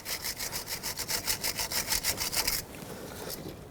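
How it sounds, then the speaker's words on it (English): A wire brush scrubs corrosion off a starter wire terminal on a 2013-2020 Nissan Pathfinder, close and steady rapid back-and-forth strokes for about two and a half seconds before stopping abruptly. "I'm actually going to take a wire brush to it and clean it up"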